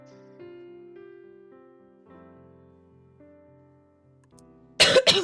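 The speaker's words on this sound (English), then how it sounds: "Excuse me, I have a cough." A quiet tonal background gives way near the end to a short burst of loud, harsh coughs close to the microphone.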